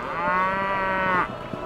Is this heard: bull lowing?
yes